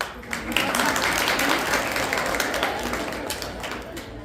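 An audience at a lecture bursts into applause, a dense, steady patter of many hands clapping at moderate distance that holds for a few seconds and tapers slightly.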